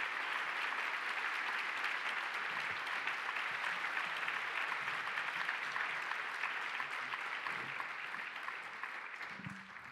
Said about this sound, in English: Let's give one more round of applause for our brilliant scholars, Dia, Caleb, and Jose Olivarez